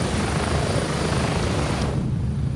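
Helicopter taking off in the Gray Zone Warfare video game: a loud, steady rotor and turbine roar filling the whole clip, easing slightly toward the end, with no talking.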